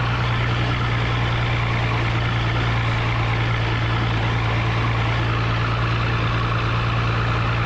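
A 1949 Fordson P6 Major tractor engine runs steadily with a low, constant drone while the throttle is eased going downhill on a hill road in rural Scotland, heard up close and alone with no talk.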